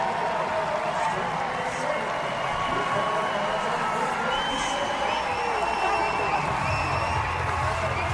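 Stadium crowd at a women's rugby match, Canada against Australia, cheering and whooping in a steady, loud roar that carries through the whole stretch, with a commentator's voice running underneath.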